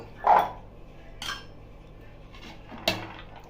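Boiled chickpeas, peas and other ingredients for aloo kabli are tossed and mixed in a bowl, with three separate clattering knocks of a spoon against the dish and quiet handling between them, with no speech.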